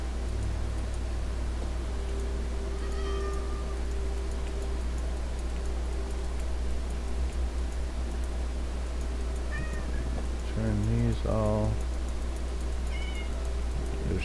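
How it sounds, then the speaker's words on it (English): Cats meowing inside a ceiling in the video game Minecraft, several short meows scattered through the clip over a steady low hum and ticking. A brief stretch of quiet speech is also present. "There's kitties in my ceiling."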